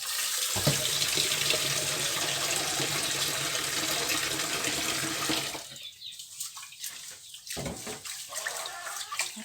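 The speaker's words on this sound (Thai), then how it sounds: "ล้างล้างล้างให้มันสะอาด แล้วก็มาถอโฮมไว้น้ำเข้ามานะ" Jasmine rice is rinsed in a pot for cooking over a charcoal stove, with steady running, splashing water filling the pot, then quieter intermittent swishing and sloshing as the grains are stirred.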